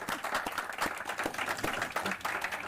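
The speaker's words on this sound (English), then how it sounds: "Can we give a huge round of applause?" A live audience gives a short burst of dense, continuous applause that fills the room, with individual claps blurring together at a fairly close, even level.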